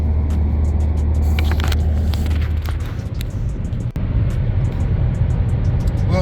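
A cruiser motorcycle cruises along a highway at about 70 mph, its engine a steady, loud low drone mixed with wind rush, with no pauses or gear changes.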